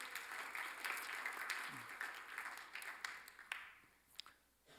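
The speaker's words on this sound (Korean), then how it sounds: "자, 박수" A church congregation at a Sunday service claps together, a fairly quiet, dense patter that carries on for several seconds, then thins into a few last scattered claps before fading out.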